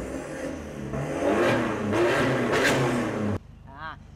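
A modified Isuzu D-Max pickup engine revs in several rising bursts, loud and close, then drops abruptly to a faint idle as someone speaks briefly at the end.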